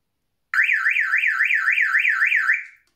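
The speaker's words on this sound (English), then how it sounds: "The motion detector goes off." An inexpensive indoor motion detector alarm goes off with a loud, close electronic siren that warbles rapidly up and down for about two seconds before cutting off, with nothing else heard around it.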